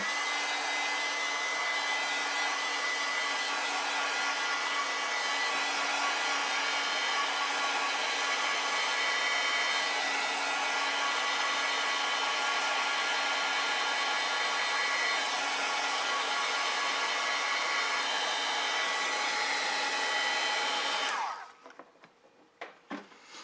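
A hair dryer blows steadily and loudly at close range while drying a watercolor poppy painting, a continuous whooshing motor whine that runs for about twenty seconds before it is switched off, leaving a few faint handling noises.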